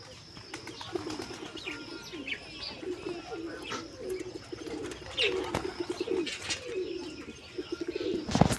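Pigeons coo in soft, repeated low phrases at close range, mixed with occasional chirps and brief wing flaps, with no talking.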